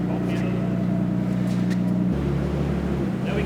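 A restored rusty old car's engine runs in a steady, loud idle rumble that shifts pitch partway through, with people talking over it.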